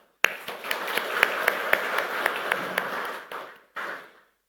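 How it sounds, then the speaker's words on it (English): A research convention audience gives a round of applause for a partner hospital, a dense, sustained burst of many hands clapping with a few sharp near claps standing out, fading out and then returning briefly before stopping. "please give a round of big applause to our kind partner, Changhua Christian Hospital"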